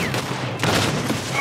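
Shotgun fire during a Red Dead Redemption 2 gunfight, a loud blast landing partway through amid ongoing shooting and game noise.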